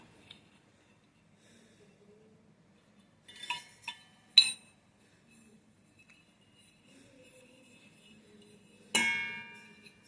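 Vintage bronze tumblers and vessels being handled, giving a few sharp metallic clinks and knocks in short bursts against near silence, with one louder ringing clink near the end.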